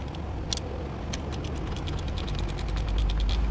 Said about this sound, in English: So back bolt is in and just starting to tighten up.